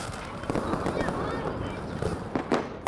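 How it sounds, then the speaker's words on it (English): Fireworks burst during Chinese New Year celebrations, giving a dense, continuous crackle with sharper pops near 0.5, 1.0 and 2.5 seconds, heard at moderate distance amid background voices. "Fireworks are also a Chinese New Year tradition."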